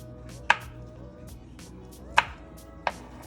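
A knife cuts potatoes for potato salad on a board, three sharp, distinct chops spaced unevenly over a few seconds, close and clear against quiet background hum, with no talking.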